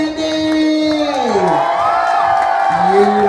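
A loud crowd cheers and whoops, with rising and falling shouted voices over a steady roar of noise.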